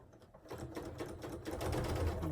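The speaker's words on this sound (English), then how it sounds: "we're just going to start stitching" Sewing machine stitching fabric for a rag quilt, a quick mechanical chatter of the needle that starts quietly and grows steadier and louder, heard close and alone.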